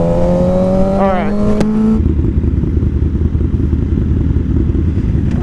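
Several motorcycles rev loudly while racing toward a line at a country club, a steady low engine roar with a brief rising whine early on, continuous and close, with people talking over it.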